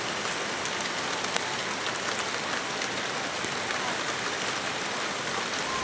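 Heavy rain pours down in a dense, constant hiss of drops striking surfaces, loud and even throughout, with no speech.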